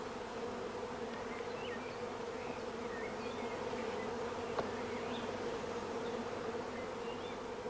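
A swarm of honey bees drones steadily around hive frames, a dense, even buzz at moderate level with a few individual bees whining past close by.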